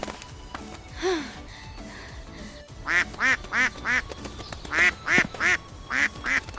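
Small cartoon-style duckling quacks come in quick bursts of three or four, repeated several times, loud and close, with a few softer calls and gasps before them.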